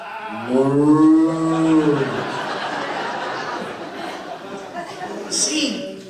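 A person gives a low, drawn-out moo imitating a cow, followed by murmuring voices and chatter, with a light laugh near the end.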